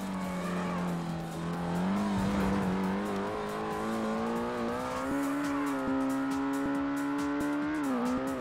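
Ford Mustang engine in the Ford Racing video game, a steady droning race-car note that rises and shifts pitch across gear changes, with slight popping and crackle over the top, continuous and fairly loud.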